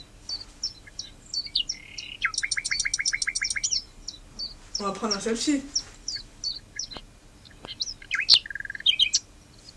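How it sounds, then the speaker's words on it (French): A countryside sound effect of birds chirping and tweeting in quick trills and repeated calls, bright and close, while a person talks briefly in the middle. "Vous entendez les oiseaux, les criquets?"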